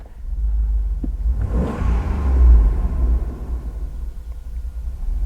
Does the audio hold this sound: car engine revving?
yes